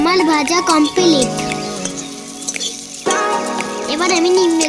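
Eggplant and neem leaves frying in a pan, a continuous loud sizzle with a voice sounding over it for much of the time.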